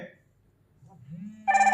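A short electronic ringtone from a Fire-Boltt Hercules smartwatch for an incoming call starts near the end, loud and bright with a steady pulsing buzz, after a faint low hum.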